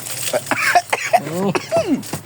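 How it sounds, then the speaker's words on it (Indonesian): Several harsh coughs break out during a smelly soil-dissection experiment, sharp bursts spaced irregularly over about two seconds and mixed with throat sounds and nearby voiced noise. "Batuk."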